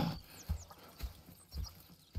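Horses in Red Dead Redemption II clop along with steady hoofbeats about every half second, close and moderately loud, with faint high calls in the background and no talking.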